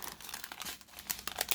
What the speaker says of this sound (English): First off, I open my baggie.